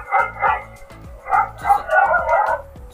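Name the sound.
dog barking sound effect played from a device button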